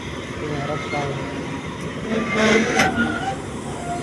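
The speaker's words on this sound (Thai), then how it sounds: "รถไฟ" A train rumbles past on the rails with a steady rolling roar, scattered metallic clatter and a brief squeal-like swell midway, and some faint voices mixed in.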